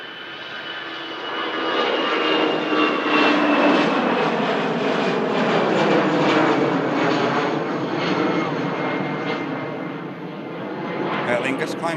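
An Aer Lingus jet airliner climbs out after takeoff from Manchester Airport with a loud, sustained engine roar that swells and then slowly fades. A voice talks faintly beneath it.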